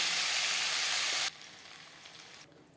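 Bhetki fish bones frying in hot oil in a pan, a loud, dense sizzle for about a second before it drops sharply to a quieter crackle that fades further near the end.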